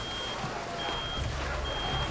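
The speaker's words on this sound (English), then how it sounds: "What's that sound? Some kind of alarm?" A steady high electronic alarm tone sounds in the video game Reverse: 1999, continuous and fairly loud over a dense noisy background without speech.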